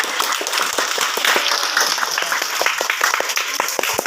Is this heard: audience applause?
yes